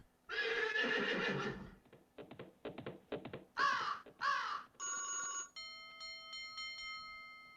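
Horse neighing sound effect played from a keyboard during a music class: a loud whinny, then a run of short rhythmic snorts, two rising squeals and a ringing electronic tone, with no talking.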